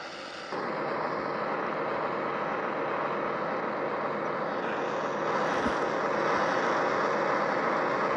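F-35 jet engine in an aircraft carrier video game, a steady loud roar held for several seconds after a sudden start, swelling slightly louder near the end with no talking.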